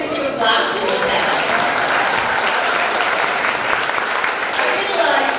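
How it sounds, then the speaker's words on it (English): An audience at a junior high school English speech competition final in Banyuwangi claps steadily, a dense, even wash of applause holding for over five seconds. "So please give a clap to yourself."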